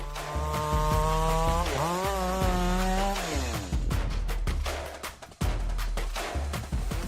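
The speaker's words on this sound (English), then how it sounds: "This powerful chainsaw is equipped with a 36 Tsumura bar and styler's chain" A powerful chainsaw with a 36-inch Tsumura bar and Stihl chain cutting through logs, its engine droning loudly and steadily, then revving and bogging as the chain bites into the wood, with no talking.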